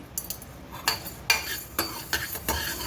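Peppercorns roasting in a pan for lemon pickle are stirred with a metal spoon, making a string of quick scraping clinks and rattles over a soft, low background hiss, close up.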